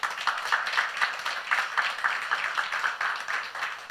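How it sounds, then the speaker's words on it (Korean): A church audience at a youth-group testimony concert claps for a member in a quick, fairly regular rhythm, a small to mid-sized group heard close and moderately loud for a few seconds. "성준이 형을 위해서 박수 좀 보내주세요"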